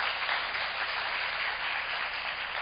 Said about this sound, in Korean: 다시 한번 주신기 멘토님께 큰 박수 부탁드립니다